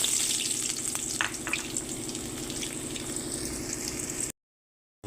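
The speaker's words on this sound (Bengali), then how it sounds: "এইখানে এখন দিয়ে দিচ্ছি কুচনো পেঁয়াজ।" Chopped onions frying in hot oil with cardamom, cloves, cinnamon and two bay leaves for a Bangladeshi-style chicken tehari, a steady close sizzle with light stirring scrapes, alone, cutting off abruptly near the end.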